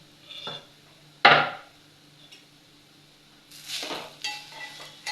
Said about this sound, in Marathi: जे किसून ठेवलेलं मिश्रण आहे ह्याचं ते टाकायचं आहे याच्यात। आणि याला छान भाजून घ्यायचं आहे।